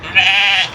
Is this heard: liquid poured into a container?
no